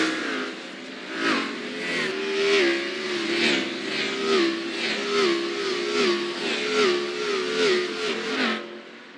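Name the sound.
race car engines revving in iRacing video game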